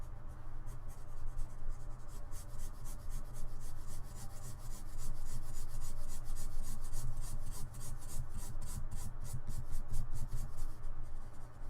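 A pencil shades in a drawing with rapid, steady scratchy strokes, close and continuous for several seconds, over a low background hum.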